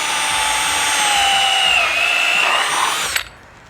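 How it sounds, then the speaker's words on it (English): A power drill fitted with a hole saw bores into a piece of wood, a loud, sustained whining grind with shifting pitch that cuts off abruptly near the end, leaving quiet. "Take our drill with our hole saw into the center"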